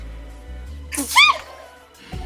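A single sharp human sneeze bursts out mid-moment over a quiet background, close and abrupt, with a faint murmur of speech around it.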